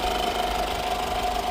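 A Honda Jazz diesel car engine runs steadily at idle, a loud continuous mechanical hum with a faint ticking rattle and no voices.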